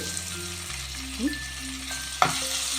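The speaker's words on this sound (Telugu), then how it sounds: "రెండు కరివేపాకు రెమ్మలు వేసుకుని బాగా ఫ్రై చేసుకోండి" Curry leaf sprigs frying in hot oil for a chicken fry, giving a steady loud sizzle with a brief stir and one sharp clatter near the end, no talking.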